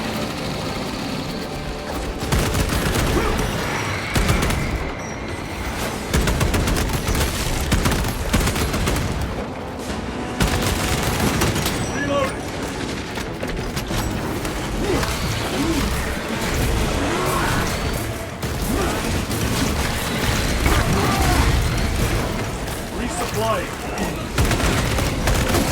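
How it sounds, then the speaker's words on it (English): An orbital gun barrage in the video game Warhammer 40,000 Space Marine 2 pounds for over twenty seconds as loud dense booms, crashes and rapid gunfire overlap in a chaotic continuous battle din, with occasional voices amid it. "There they are. The orbital guns."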